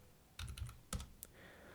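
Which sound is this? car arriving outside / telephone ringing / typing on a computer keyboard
typing on a computer keyboard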